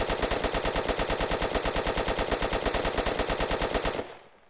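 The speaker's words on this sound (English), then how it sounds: "Full auto." Full-auto fire from an MP5 submachine gun in a video game: a long, dense, steady burst of rapid rhythmic shots for about four seconds, then cutting off into a short fading echo.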